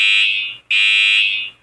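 A school fire alarm blares loud and close as a shrill, steady electronic tone that cuts out briefly and comes straight back, two long pulses in all.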